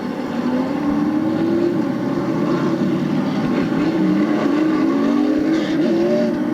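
Pro stock race cars circle Stafford Speedway in a pack, a loud continuous roar of engines with rising and falling pitch as cars pass, sustained throughout.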